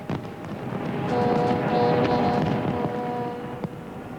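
Fireworks bursting over the Thames in London during a large New Year display, a dense continuous crackling roar with sustained whistling tones and scattered sharp bangs, loud and fairly distant.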